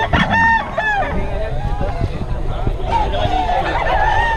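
Several gamefowl roosters crow at a busy market in Bocaue, one loud close crow at the start and others trailing further off, over a steady murmur of crowd chatter and nearby talking.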